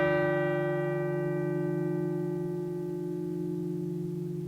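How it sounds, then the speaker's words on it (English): A single large bell, rung to mark a moment of silence, sounds as one long sustained ringing tone that fades slowly and stays loud throughout, with no voices. "There's the bell."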